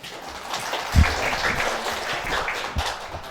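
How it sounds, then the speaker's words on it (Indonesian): Moderate applause for a student at a seminar, a scattered spread of clapping at middling level with a couple of sharper close claps standing out. "Saya kira tepuk tangan lah untuk saudara ini"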